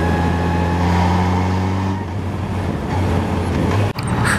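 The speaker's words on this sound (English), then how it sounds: "Oh, and the engine just sounds so good." A 2015 Yamaha FJR1300 touring motorcycle engine running in fourth gear while riding, a steady loud drone with strong harmonic tones that shift as the revs change, accompanied by wind and road noise.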